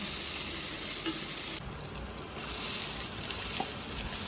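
Rice coated in ghee and turmeric fries in a pan with a soft, continuous sizzle and occasional stirring scrapes, heard close up and fairly quiet.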